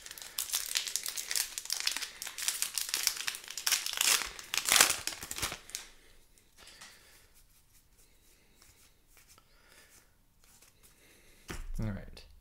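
A Commander Legends booster pack wrapper being torn open and crumpled, with busy close crinkling bursts for several seconds, then a quieter stretch of faint handling and a brief thump near the end.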